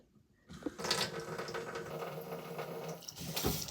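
Tap water runs from a kitchen sink into a small measure, a steady close splashing hiss that starts abruptly after a moment of quiet and continues evenly to the end.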